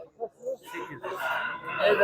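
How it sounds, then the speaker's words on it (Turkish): A rooster crows loudly and close by at a chicken market in Tuzla, Istanbul, its call rising and stretching out after a few short voice-like sounds at the start. "Horoz kimin?"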